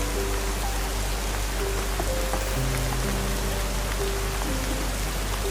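Heavy rain falls steadily through the night, a dense, even hiss that holds at a constant loudness throughout with no voices.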